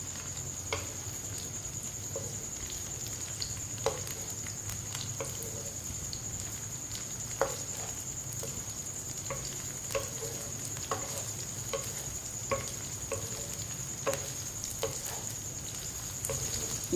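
Quiet sizzle of chopped okra (bhindi) frying in hot oil, with soft periodic scrapes and taps of a spoon stirring the pan at a steady rhythm, close and without talk.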